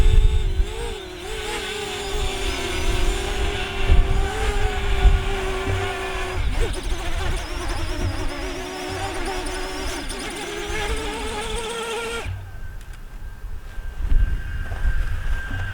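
Parrot Anafi drone approaching near a reservoir for a hand catch, a high buzzing propeller whine that shifts in pitch as it maneuvers close, then drops away abruptly near the end, with wind noise underneath.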